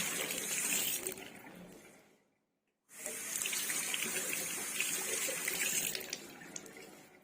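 Water from a wash-basin tap that an IR sensor switches on and off runs in a steady, fairly loud hiss into the sink. It cuts to brief silence, then restarts and keeps flowing.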